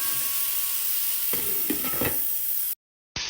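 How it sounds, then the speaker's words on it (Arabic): Garlic and onion stirred with peas and carrots in a pot, a close scraping stir over a steady sizzle and hiss, with a few louder spoon strokes before a brief drop to silence. "نرجع نقلبهم وبنغطيهم لحتى يدبل معانا البصل"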